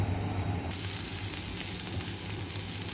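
Garlic and onion frying in a pan: after a brief muffled start, a loud steady sizzle bursts in and hisses continuously, close and bright, with no talking.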